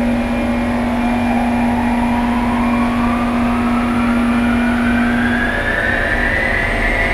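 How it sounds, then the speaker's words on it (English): Electric motor spinning up during a main fuse test on an inverter, a steady whine whose pitch climbs gradually over a constant hum, loud and continuous with no talk. "Moses, spin up the motor again, and just spin it up, and I'll tell you when to stop"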